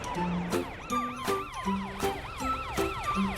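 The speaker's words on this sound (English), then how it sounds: "It's Matt, the police car." A cartoon police car's wailing siren rises and falls repeatedly in a steady cycle, loud and close, with no talking over it.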